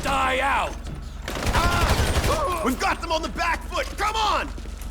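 Gunfire in GTA 5, a burst of rapid shots and thuds around the middle of the passage, mixed with game music and effects while someone talks excitedly over it.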